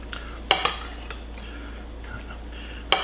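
Ingredients stirred around in a bowl for a home-cooked side dish, with sharp utensil clinks against the bowl at a few moments over soft continuous background noise and no speech.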